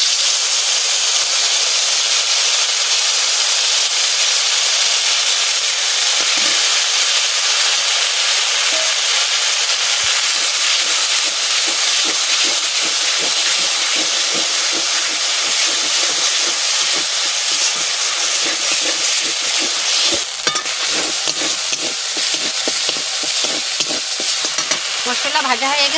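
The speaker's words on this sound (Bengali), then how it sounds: "মশলাটা দিয়ে দিচ্ছি।" Ground spice paste sizzles in hot oil in a pan for a potato and paneer curry, a loud, continuous hiss with a crackling edge, joined later by brief stirring scrapes.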